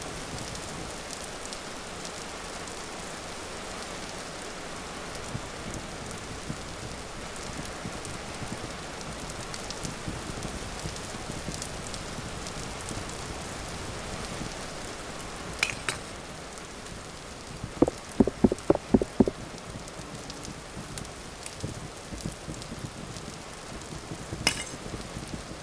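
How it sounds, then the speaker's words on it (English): Steady rain patters continuously in the video game Vintage Story, a dense even hiss throughout, with a brief run of clinks and taps partway through. "Rainy day, so not a bad day to work indoors."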